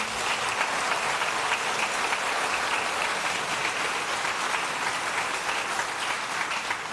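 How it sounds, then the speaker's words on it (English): A crowd at the Ohio State of the State address applauds steadily and loudly, continuous clapping sustained from start to finish with no voices on top. "Let's give them a round of applause again."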